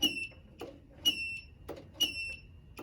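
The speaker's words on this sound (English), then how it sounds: "and the annoying beeper works." A liftgate solenoid beeper sounds three short, sharp electronic beeps spaced about a second apart, each with a brief mechanical clunk, fairly quiet against a low background hum.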